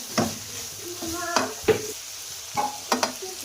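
Capsicum frying in a pan with turmeric, with irregular clanks and scrapes of stirring over a soft sizzle, close and fairly loud.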